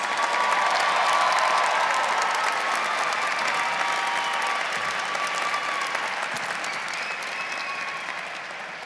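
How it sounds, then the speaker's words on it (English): Large commencement audience at a university fall ceremony applauding for doctoral degree recipients, a dense, steady roar of clapping that fills the hall and slowly fades toward the end. "Please give a round of applause to our doctoral degree recipients."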